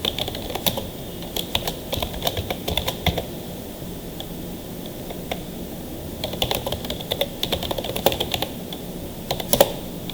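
Steady rapid typing on a computer keyboard while entering accounting vouchers, with clustered clicky keystrokes and brief pauses, close and fairly quiet, no talking.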